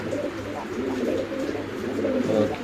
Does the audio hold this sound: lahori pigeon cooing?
yes